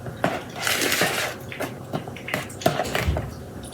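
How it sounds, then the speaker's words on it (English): Cake mix and milk stirred together into cupcake batter in a bowl, a utensil scraping and clinking against the dish in short strokes, close and moderately loud. "Don't overmix your cake mix."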